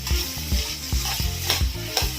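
Rice fries in a pan over a medium flame with a steady sizzle, while a spatula scrapes and stirs it in quick, regular strokes, close by.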